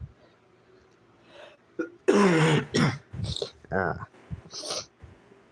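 A sharp cough or harsh throat-clearing bursts out mid-clip, mixed in with other short vocal noises and breaths against a quiet background.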